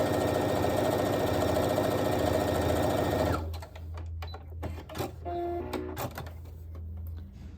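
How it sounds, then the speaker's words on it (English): Sewing machine running steadily along a seam line joining a triangle to a quilt strip, a close, rapid stitching rattle that stops partway, leaving faint handling clicks and a soft hum. "I'm just going to let my machine do the work and sew right along that line"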